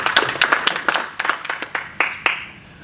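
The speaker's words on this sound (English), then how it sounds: "Give me a round of applause." A small audience at a talk in Glasgow gives a short round of applause, with sparse, distinct hand claps that stay close and fairly loud, then thin out over about three seconds.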